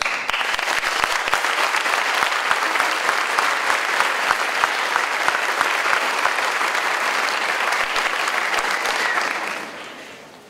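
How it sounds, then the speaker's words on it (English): A graduating class at a 2016 school graduation ceremony applauds the school staff, a loud, even wash of many hands clapping that holds steady before tapering off near the end. "we owe them a round of applause for all their efforts"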